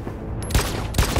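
Gunfire in the video game Detroit: Become Human, two sharp shots about half a second apart, loud and close over a dark game soundscape.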